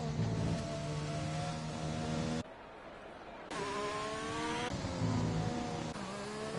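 A race car lapping the Bahrain circuit in a racing video game, its engine revving hard through gear shifts with a short drop in volume, a commentator talking over it.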